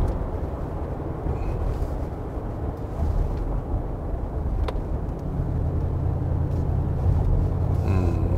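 Cabin of a Mercedes-AMG G63 20th Anniversary Edition on the move: a steady low road and engine rumble, a muffled broadband hum that swells slightly near the end, with no talking.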